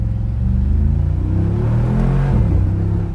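A 2019 Mercedes-AMG G63 Edition 1 engine gives a loud, deep, steady grumble nearby, with a slight rise and fall in pitch partway through and no talking over it.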